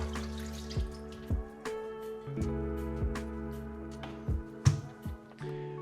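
Liquid drips and splashes steadily as apple juice mixture is poured over pork, with a few louder plops and a continuous low trickle underneath.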